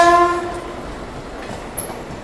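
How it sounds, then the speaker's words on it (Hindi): A passenger train passing on a railway line, with a loud horn blast at the start, then the steady rumble and rattle of carriages going by close at hand. "ये आ रही है रीवा आनंद विहार सुपरफास्ट। नहीं, रीवा आनंद विहार नहीं, कोई पैसेंजर ट्रेन है शायद।"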